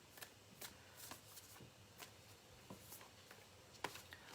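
A deck of cards is shuffled softly at a table, a faint, irregular series of light riffling clicks and taps over a few seconds, with no voices.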